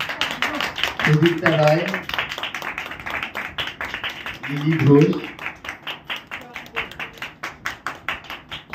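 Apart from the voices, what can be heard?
applause at certificate ceremony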